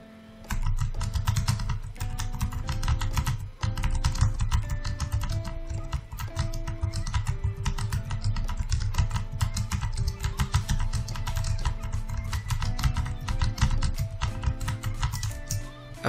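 Rapid, steady clicking of keys on a computer keyboard as text is typed, close and continuous throughout with no voices.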